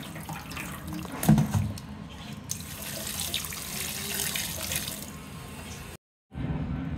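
Pieces of cut raw jackfruit are washed under running tap water in a sink, a continuous gushing splash with a sharper clatter early on. The flow briefly cuts out near the end, then resumes.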